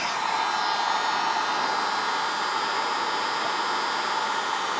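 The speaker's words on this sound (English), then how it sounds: "Heat shrink that thing up on that side. And just heat it up until the solder melts." A heat gun blows steadily while shrinking heat shrink tubing over soldered starter wires on a Snapper rear engine tractor, a constant loud, close whooshing roar with no pauses or voices.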